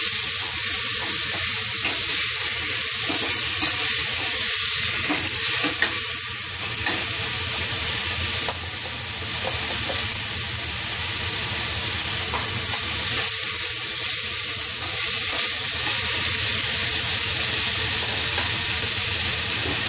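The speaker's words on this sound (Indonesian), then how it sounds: "Kita aduk-aduk." Beef curry with carrots and potatoes is stirred in a hot pan, a steady sizzle and frying hiss with intermittent scraping strokes running continuously for the whole stretch.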